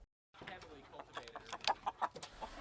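Free-roaming chickens on a wooded forest farm cluck in a run of short, close calls over soft rustling outdoor background, with one louder burst of clucks near the middle.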